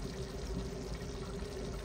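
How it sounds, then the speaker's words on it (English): Double cream pours into a pan of chicken pasta in a soft, steady liquid stream that runs unbroken for a couple of seconds, quiet and close, with no talk. "I'm just going to pour it in and estimate."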